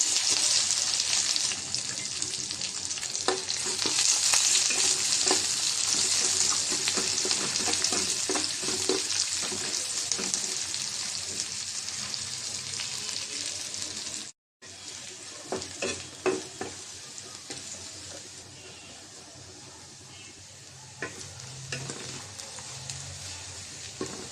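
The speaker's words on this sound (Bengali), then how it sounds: "হয়ে গেছে বাগারের পেঁয়াজ আর মরিচ ভাজা, দিয়ে দিলাম ডালে।" Onions and dried red chili sizzle loudly in hot oil for a lentil dal tempering, a steady crackling hiss with occasional stirring scrapes, close up.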